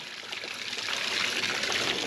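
Water flows steadily from a newly installed water pipe at a stable, a close, continuous rushing trickle that swells slightly louder partway through, with no talking.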